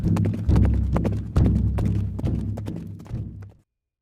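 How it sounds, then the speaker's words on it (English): Horse hooves pound in a loud, close run of heavy clip-clop thuds, with several surges of galloping hoofbeats drumming across a wooden bridge before cutting off abruptly into silence. "Some even claim to have heard the pounding of hooves across the bridge at night."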